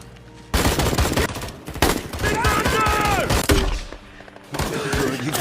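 Heavy gunfire in a film battle between elite soldiers and an enemy force: dense bursts of loud, overlapping shots and fusillades, repeating in waves with brief lulls between volleys.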